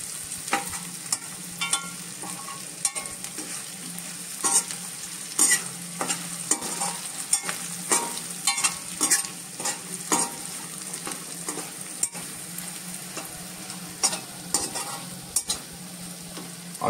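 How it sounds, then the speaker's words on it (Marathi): Finely chopped potato sautéing in a pan for a Marathi vatli dal, with a steady close sizzle broken by frequent scraping stirs and clinks throughout, and no voices. "हा एक बटाटा मी घेतलेला आहे, हा व्यवस्थित परतून घ्यायचा आहे।"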